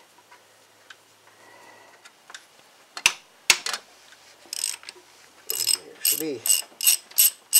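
A ratchet with a 12 mm deep socket works a water pump bolt on a Duramax LLY 6.6L diesel, with sharp separate clicks, then a fast run of rhythmic ratcheting bursts, and a brief spoken remark early on.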